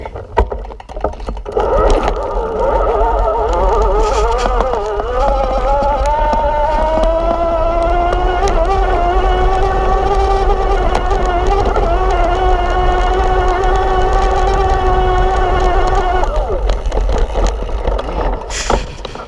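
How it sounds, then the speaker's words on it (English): An electric motor on a Kranked E Squared e-bike whines loudly and steadily as the bike climbs a rocky uphill trail, its pitch rising slightly under load over rumbling wind and tire noise before easing off near the end. "But we're gonna try to use the motor and see what happens here."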